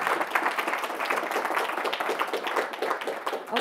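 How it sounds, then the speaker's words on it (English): An audience at an academic presentation gives a round of applause, dense, even clapping that carries evenly for a few seconds with no talking. "can we give a round of applause"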